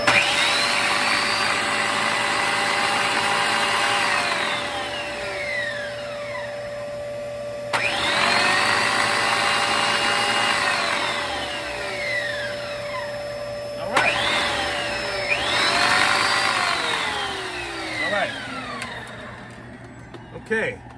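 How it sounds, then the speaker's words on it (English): A Dyson DC17 upright vacuum runs steadily with its brush bar spinning, a loud constant motor whine with a sustained tone that swells and shifts in pitch as it is reclined and moved, voices faint underneath. "Let's turn this on and we're gonna recline it."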